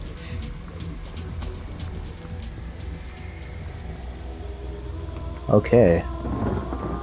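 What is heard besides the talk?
rain and thunder from a rain spell in Divinity Original Sin video game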